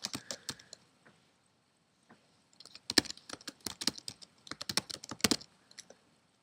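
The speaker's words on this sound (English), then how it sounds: "Go back in here and type in career computer programmer." Fingers typing on a computer keyboard, short bursts of close, crisp key clicks separated by pauses, growing busier in the second half.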